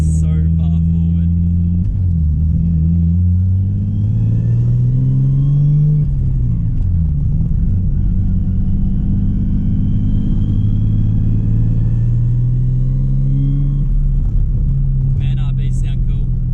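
Nissan R33 Skyline with its RB engine runs with a loud, steady rumbling idle that rises and falls through revs, close by, with a voice talking over parts of it.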